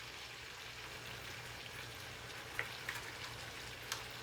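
Chicken, shrimp and zucchini noodles frying in a pan on high heat, a faint steady sizzle with a few soft pops and clicks.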